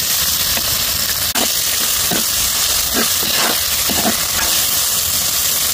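Onions fry in a pan for a vegetarian Kadle manoli sukka, a loud continuous hiss and sizzle broken by several sharp scraping stirs, close up with no talking.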